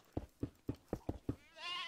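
A goat in Minecraft gives six quick, evenly spaced bleats, close and clear, followed by a brief sustained tone.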